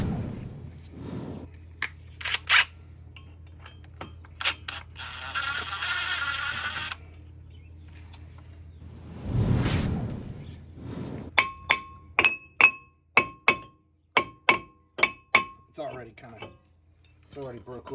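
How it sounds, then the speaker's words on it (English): A small sledgehammer strikes a rusted brake rotor between the lugs, sharp metallic clanks coming as scattered single hits and then a quick run of about a dozen ringing blows, close and loud. "a little sledge to kind of break the rust up"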